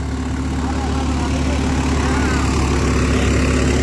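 A Swaraj 742 XT tractor drives an 8-foot rotavator through wet field soil at a village demo, its engine making a loud, close, steady drone throughout.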